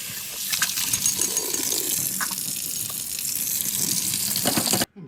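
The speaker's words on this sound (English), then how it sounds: "Then I just give each piece a good rinse in water as hot as you can stand it." Hot running water rinses silver plated pieces in a sink: a steady, close splashing gush lasting several seconds with small clinks, then it cuts off abruptly.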